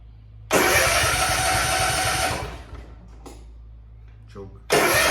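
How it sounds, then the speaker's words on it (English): A Cub Cadet ZT1 zero-turn mower engine cranks and fires, runs loud and close for about two seconds, then dies away, and a second start attempt begins at the end. "start the motor up, let it run for a few seconds, a minute, shut it off"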